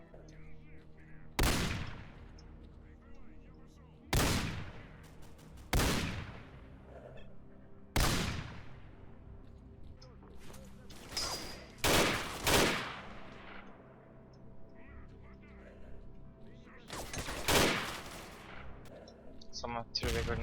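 Rifle fire and a grenade blast in a Call of Chernobyl battle at Limansk: loud, sharp G36 shots and bursts crack out at irregular intervals across the stretch, each with a ringing decay, with background game noise in between.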